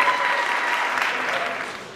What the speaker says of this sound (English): we should definitely give another round of applause for the Universal Declaration of Human Rights